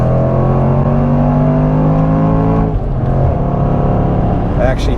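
A 2021 Range Rover SVR performance SUV engine accelerating while driving, a steady loud cabin drone with rising harmonic tones that shift midway, heard from inside the vehicle without clear talk.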